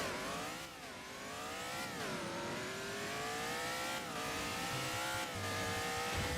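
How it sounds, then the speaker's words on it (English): A Dark Horse NASCAR race car in the video game Driving Empire revs steadily, its engine pitch climbing and falling through several gear-like sweeps, loud and close with no talking. "Sounds like a proper NASCAR"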